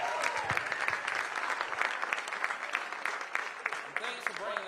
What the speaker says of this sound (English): Let's give another round of applause for this.